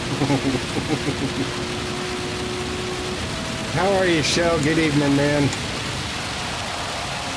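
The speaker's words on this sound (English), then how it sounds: "We all enjoy the rain." Steady rain hiss from a Gran Turismo 7 race at rainy Le Mans runs throughout, with several voices chatting over it and a brief louder stretch midway.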